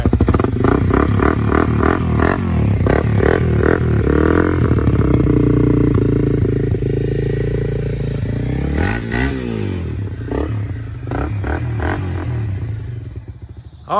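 A Honda CBR250R motorcycle engine runs loud and close, rising through repeated revs and falling back, with a rattly mechanical clatter over the steady drone before it abruptly stops.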